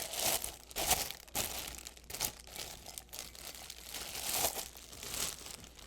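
Brown paper crinkles and rustles in repeated bursts as a cup is unwrapped from it, close and fairly quiet, with no talk.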